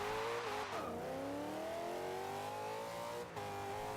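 A drag car in the Forza racing game launches and accelerates hard, its engine roaring loudly with rising pitch through quick gear shifts, mixed with tire noise and no talking.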